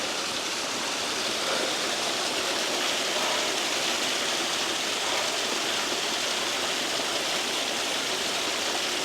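Steall Waterfall in the Scottish Highlands, a constant dense roar of rushing water, loud and even from start to finish with no voices.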